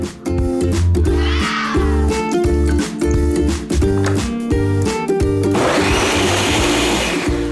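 A blender runs loudly up close, blending pomegranate seeds with water and lemon, its motor whining and pulsing in rapid bursts, then roaring into a harsher grinding churn near the end.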